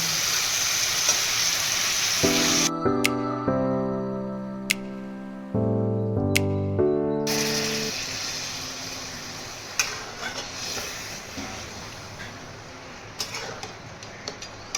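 Oily pan sizzling loudly as turmeric powder and hot water go in, briefly broken by a few clanks of utensils and a stretch of tonal ringing before the frying hiss returns and continues with scattered ticks and stirring.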